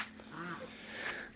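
Young ducklings quack with short, soft nasal calls over a light background, close by, with a faint voice nearby.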